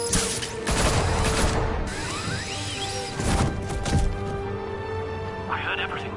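Gunfire in a Batman video game, rapid cracking bursts from several guns mixed with whooshes and crashing impacts, under shouting voices and dialogue.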